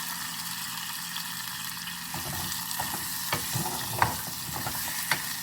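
Chopped tomato is stirred into a pan of Marathi aamti dal after the heat is off, a soft wet sizzle with clacks and scrapes from the spoon coming in irregular bursts.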